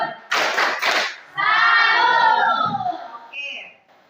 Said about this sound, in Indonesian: memberikan tepuk salut untuk kalian semua